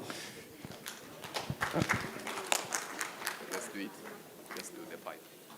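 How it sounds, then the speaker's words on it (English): An audience at a Kenyan government e-procurement event claps for the Cabinet Secretary in scattered, uneven bursts of hand claps, with voices mixed in throughout. "I want to request the DG to help us clap for the CS"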